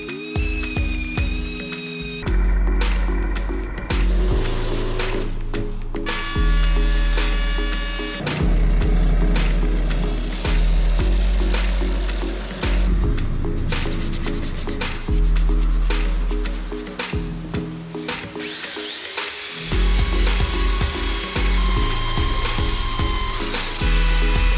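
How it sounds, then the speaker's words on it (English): Power tools drill and rout cavities into a guitar body made of resin-cast jawbreaker candy, producing loud bursts of whining cutting that start and stop repeatedly with short pauses between passes. "So what I'm going to do now is drill out all the cavities, then clean them up with the router"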